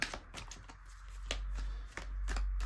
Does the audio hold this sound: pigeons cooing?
no